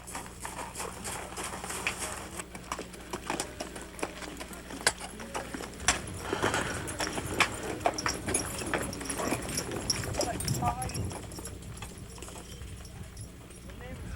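Horse or mule hooves clip-clop steadily along a Grand Canyon trail, mid-distance, with a rustling outdoor background and some people talking quietly.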